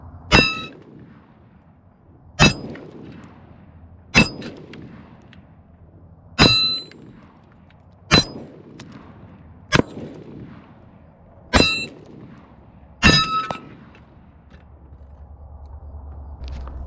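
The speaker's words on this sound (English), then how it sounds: "Well, I hit the plate, but the plate's not hanging off the thing anymore." Gunshots strike a hanging steel plate target at an outdoor range, giving eight sharp, ringing metallic clangs at steady intervals of about two seconds, each fading quickly into quiet outdoor background.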